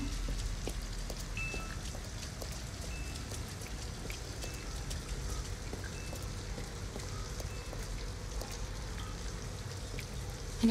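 Rain falling in the video game Detroit: Become Human, a steady, even wash of patter and drips that holds at the same level throughout, with no voices over it.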